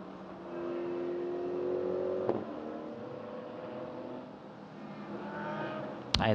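Ferrari, Bentley and Porsche race cars at the Hockenheimring in a Hyper Sprint race, engines droning and rising at a distance in a steady wash, with a sharp knock near the end.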